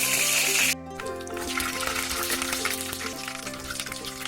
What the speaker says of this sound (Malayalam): ഈ കടുക് ഒന്ന് പൊട്ടി വരുമ്പോഴത്തേക്ക് നമ്മൾ കറിവേപ്പിലയും കൂടെ ആഡ് ചെയ്ത് കൊടുത്തു.